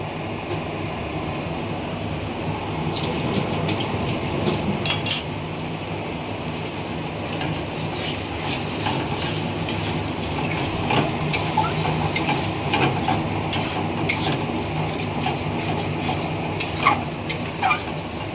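Chana masala spices stirred in a cooking pan, with a soft continuous sizzle and scattered scraping clinks of a spoon against the pan, close and steady.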